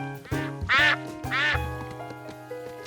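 Cartoon ducks quack in loud, close, nasal bursts, with two strong calls in quick succession over a backdrop of soft musical tones, and no talking.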